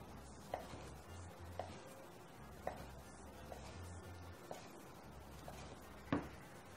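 A knife slices food into thin slices on a cutting board while cooking a Rioja-style potato dish: soft, evenly spaced cuts about once a second, faint and close, with no talk.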